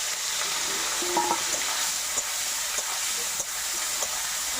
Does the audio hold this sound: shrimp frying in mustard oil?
yes